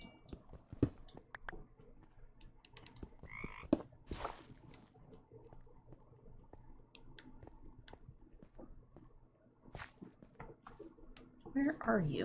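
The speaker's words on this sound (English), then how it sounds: "I hear a frog somewhere up above me." A Minecraft frog croaks amid game ambience, with a few short croaks and clicks scattered through the stretch and a burst of louder croaking near the end, while a player talks quietly over part of it.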